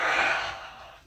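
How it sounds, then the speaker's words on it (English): A single breathy yawn, loud at first and trailing off softly over about a second, with no talking. "sorry I was yawning"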